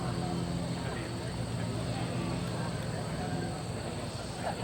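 A steady droning engine hum of an electric model B-17 airplane with a 10.5-foot wingspan in flight at an airshow, constant and moderately loud, with a person talking over it.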